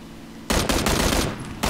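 Rapid bursts of gunfire in PUBG, loud and close, two sharp volleys with a brief gap between them, after a quiet lead-in.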